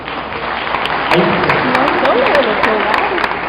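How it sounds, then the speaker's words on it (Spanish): Audience applause at a conference on law and good coexistence, a brief steady wash of clapping heard under a voice that keeps talking over it. "Un aplauso"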